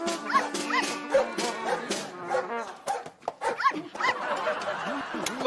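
Several dogs bark and yip in short, irregular bursts, fairly close, mixed with other voices and background noise.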